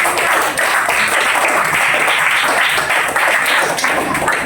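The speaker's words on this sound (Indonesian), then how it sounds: "tepuk tangan dulu untuk temannya" Elementary schoolchildren in a sixth-grade classroom clap for a classmate, a loud, close, continuous burst of many hands clapping with a few sharper taps and thumps mixed in.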